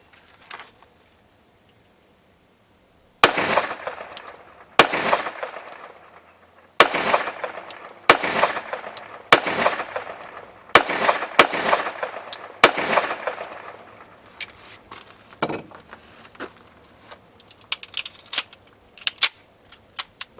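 A Kimber Raptor pistol fires a series of sharp, loud gunshots at irregular intervals, each crack followed by a short ringing decay, then lighter metallic clicks and handling sounds near the end.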